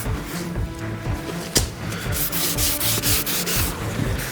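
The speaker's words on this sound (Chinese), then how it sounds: "接下来是2500的砂纸，然后我们把它先弄湿。" Car paint being wet-sanded by hand with soaked 2500-grit sandpaper on a Honda being converted to FD2 Type R trim: close, rhythmic back-and-forth rubbing strokes, steady and alone, with a sharp tap near the middle.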